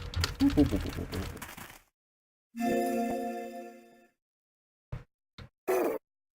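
Computer keyboard keys pressed while playing Fate/Extra: a few quick, close clicks between bursts of game sound, with talk before them.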